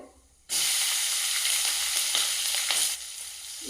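Green chillies, dried red chillies and finely chopped onion hit hot oil in a tempering with peanuts and chana dal, bursting into a loud, steady sizzle after a short quiet start, then easing off near the end.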